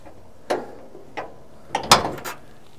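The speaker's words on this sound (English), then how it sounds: "we're going to pop the hood now, which of course is external" Hood of a 1967 Mercury Park Lane Brougham with a 410 cubic inch V8 being released and raised: a couple of isolated mechanical clicks and latch clunks, then a louder cluster of metallic catch and creak sounds, close and with no talk.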